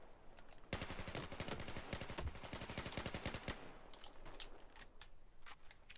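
Rapid automatic fire from an M416 assault rifle in the game Battlefield 4, one long, dense burst of sharp cracks followed by a few scattered single shots, all close and crisp.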